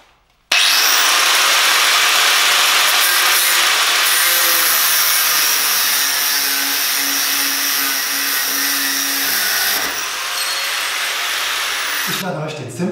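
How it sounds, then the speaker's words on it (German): An angle grinder cuts through a threaded steel rod with a loud, steady high-pitched whine and grinding hiss, running continuously for about twelve seconds before spinning down. "Ich werde den Winkelschleifer verwenden."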